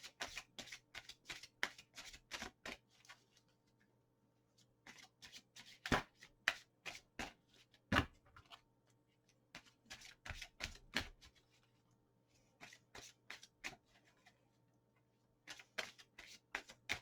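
Tarot cards being shuffled in repeated quick bursts of crisp riffling clicks, pausing between rounds, close and moderately loud over a faint low hum.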